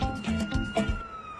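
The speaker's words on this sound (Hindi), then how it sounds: "एम्बुलेंस का सायरन है" An ambulance siren wails loudly and close by, its rising and falling tones repeating in quick succession.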